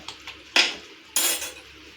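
Cardamom powder being stirred into banana leaf halwa in a pan, giving two short scraping, clinking strokes of a utensil against the pan with quiet gaps between them.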